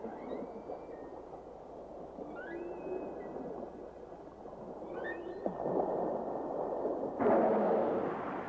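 Humpback whale vocalizations underwater off Hawaii: several rising and falling moaning calls and squeals sound over a constant watery hiss, with a louder, denser burst of noise near the end.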